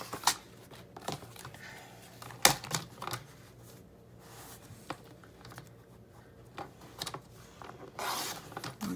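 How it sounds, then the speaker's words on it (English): A handheld paper trimmer slices along a score line on a sheet being squared off for a photo album, with several short sharp swipes and scraping strokes close by, separated by quiet handling of the paper. "go ahead and just stick it under here and just trim off where your score line is"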